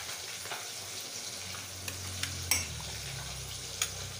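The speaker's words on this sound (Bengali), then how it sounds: "মাছটা ভাজা হতে থাকো" Fish fries in oil in a pan with a steady, close sizzle, punctuated by a few light clinks and taps of utensils, and no talking.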